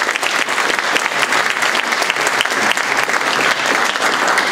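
Sustained, dense applause from an audience at an evening program in a mansion, loud and steady throughout with no speech over it.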